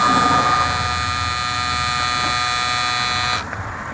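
A Suprent Storm Gray electric trimmer runs at its second speed with a steady, close, high-pitched electric buzz that cuts off abruptly near the end.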